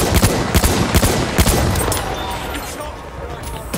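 Battlefield 1 gameplay: dense, rapid machine gun fire with sharp repeated cracks in the first seconds, tapering into a rumbling fusillade as speech is heard over the battle.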